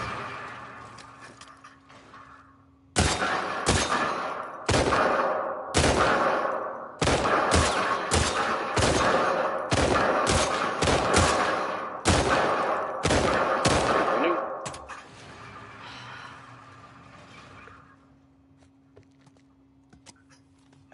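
Gunfire in a shooting gallery competition for best score on a full magazine: a rapid series of sharp, loud shots, some single and some in quick clusters, fired over about twelve seconds, with a humming background before and after and no talk.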